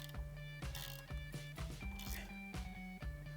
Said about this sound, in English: Grab our 10mm socket and get that tightened up